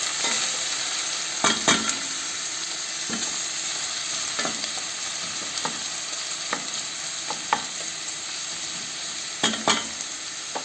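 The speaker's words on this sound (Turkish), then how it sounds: "Soğanlarımı doğradım. Tencereme aldım. Önce şöyle soteliyorum." Chopped onions sauté in a pot as the base for a potato and chicken wing dish, giving a steady close sizzle broken by sharp crackles and the clicks of stirring, with no talk.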